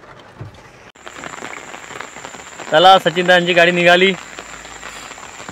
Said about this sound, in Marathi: पावसाची रिपरिप चालू आहे.